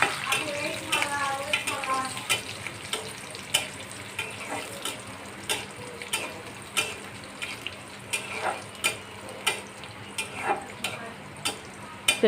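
Onion and garlic fry in a pan with light spices, giving a steady close sizzle broken by regular sharp stirring scrapes, with a voice now and then.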